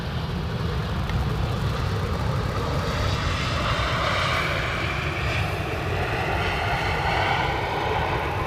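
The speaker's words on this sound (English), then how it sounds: "Beautiful touchdown. Quiet and smooth landing." Airliner landing on the Polderbaan runway at Amsterdam Schiphol: a steady, broad engine roar and rushing air hold throughout at close range, with no talk.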